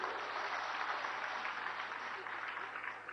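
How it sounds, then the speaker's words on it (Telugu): Audience applause at a public gathering for the reopening of an Anna Canteen in Gudivada, a steady dense wash of clapping held for about three seconds at moderate distance, fading slightly at the end. "అయితే గట్టిగా చప్పట్లు కూడా చెప్పండి"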